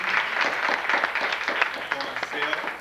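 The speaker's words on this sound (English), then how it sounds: "resounding round of applause for our panel" An audience applauds a panel at a 1994 community gathering with a dense, continuous patter of many hands, loud and close, over a few seconds.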